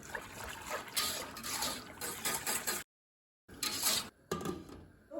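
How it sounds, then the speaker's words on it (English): Raw milk being whisked in a pot as it warms toward 140 degrees, a steady close watery swishing and sloshing with a faint metallic scrape, broken by one brief silent gap and a short pause near the end. "I will whisk it in"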